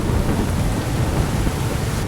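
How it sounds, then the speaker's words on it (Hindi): Heavy rain pours down in a dense, continuous roar with a deep rumbling undertone, loud and steady throughout, heard from a train in rural Maharashtra at night. "ऐसी बारिश मॉनसून में देखने को मिलती है"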